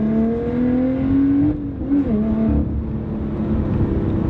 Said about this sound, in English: And when you open it up, you can tell it's got that sound to it.